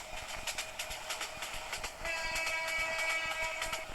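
A train in the Train Simulator Bangladesh game rolls past with rhythmic clickety-clack and a sustained horn tone in the second half, loud and steady without voices.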